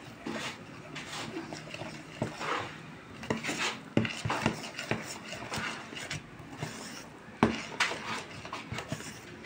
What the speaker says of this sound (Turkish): kaşıkla karıştır anne